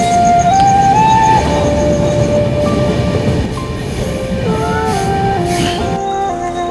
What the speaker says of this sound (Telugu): సో మొత్తం అండర్ గ్రౌండ్ నుంచి ట్రైన్ వెళ్తుంటుంది ఇలా